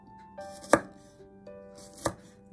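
A knife chops garlic on a cutting board with two distinct, close, crisp strikes about a second apart, set against a quiet kitchen background with no speech.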